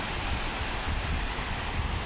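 Sea waves at a littered shoreline make a steady low wash and rumble, mixed with wind buffeting the microphone, continuous and moderately loud with no voices.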